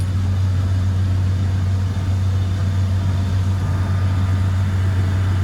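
A Rinker 232 Captiva cuddy boat with a Mercruiser 5.0L MPI 260HP Alpha 1 engine cruising at about 3,500 RPM and 25 mph gives off a steady, loud, unbroken drone with a deep low hum and constant wind and water noise.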